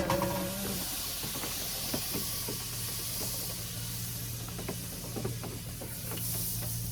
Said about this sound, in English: Pan's a little hot. I burned the butter a little bit, but that's okay.